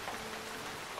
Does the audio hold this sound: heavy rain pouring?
yes